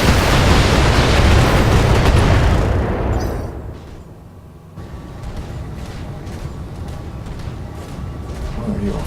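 Mech weapons in the BattleTech video game unload in a loud, dense barrage of booming fire and impacts that rumbles for several seconds, eases briefly, then resumes as sustained crackling blasts at close range.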